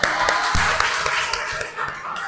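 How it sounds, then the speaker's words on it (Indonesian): A small group clapping, a continuous patter of many hands applauding close by, fading slightly near the end. "beri tepuk tangan"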